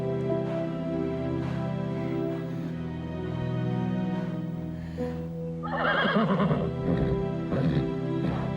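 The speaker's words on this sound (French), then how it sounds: "un grand cheval." A large horse neighs in a whinnying burst partway through, loud and close, over a steady background of music and ambient sound with faint hoof clip-clops.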